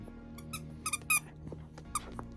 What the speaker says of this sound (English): Can we not squeak it while we're trying to film?